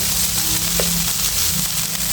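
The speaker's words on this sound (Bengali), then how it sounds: "আরও কিছুক্ষণ সময় আমি একদম জালটা কমিয়ে ভেজে নেব" Bitter gourd fries in a pan over a low flame, making a soft, steady sizzle and crackle close up, without talking.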